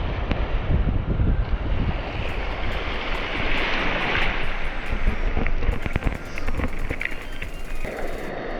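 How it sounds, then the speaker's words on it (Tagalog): Steady roaring surf and wind wash over the microphone, a continuous loud rush of large ocean waves on a fishing trip, with no voices. "dambuhalan na yung mga alon"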